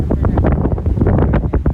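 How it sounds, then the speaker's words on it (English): Wind gusting across the microphone at the Tecumseh Memorial for the War of 1812, close rumbling buffets in rapid uneven bursts, with no talking. "It's windy here, but it's beautiful."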